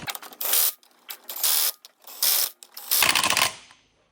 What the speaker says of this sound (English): When you're torquing these down, you want to make sure they're set to 65 foot-pounds of torque.